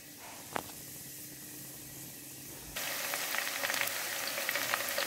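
Onions hit half a cup of hot oil with browning garam masala in a pot, and a steady broadband sizzle suddenly jumps louder and stays dense after a brief clink at the start.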